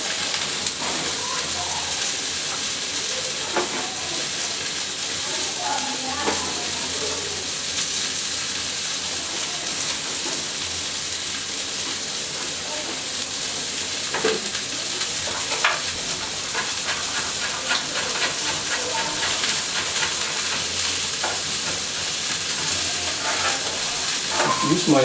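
Cod fish and prawns sear in a hot pan with a loud continuous sizzle and hiss, punctuated by scattered spatula scrapes and clatters over about twenty-five seconds, with occasional faint voice in the background.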